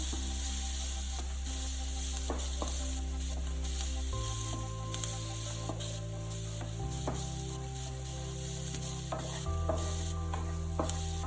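Chicken steak fries on a slow flame in a pan with garlic, a continuous soft sizzle and gentle crackle over a steady low hum, with occasional light scrapes.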